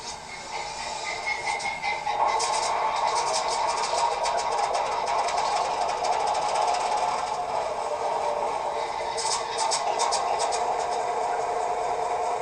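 A small H16-44 model diesel locomotive with an ESU sound decoder simulating an 8-cylinder engine hums steadily, a faint buzzing drone with light rattling ticks, continuous and fairly quiet.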